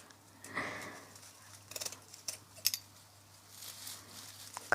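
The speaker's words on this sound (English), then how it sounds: "Cut some more of these stars off." Scissors snip stars off a strand of tinsel during a Christmas craft, giving several short, sharp cuts scattered over a few seconds with faint rustling between them, close and fairly quiet, no voices.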